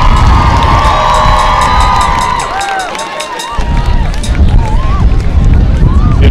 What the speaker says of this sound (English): give one more round of applause for our homecoming royalty and this year's cheering queen